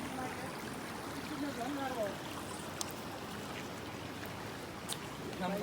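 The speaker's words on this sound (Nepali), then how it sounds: "यहीँसम्म सुसाएको छ नारायणी" Floodwater of the swollen Narayani river rushing past a submerged picnic spot, a steady broad wash of moving water, with someone talking over it throughout.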